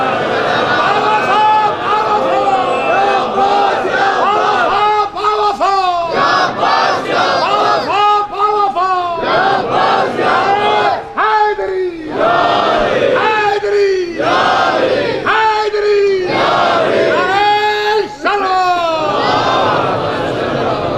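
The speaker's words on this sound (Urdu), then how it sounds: "ایک سلوات بھیجنے بلند آواز سے محمد وآلہ" A large congregation at a Muharram majlis in an imambargah in Lucknow loudly recites salawat in unison, many voices rising and falling together in repeated rhythmic phrases that fill the whole stretch.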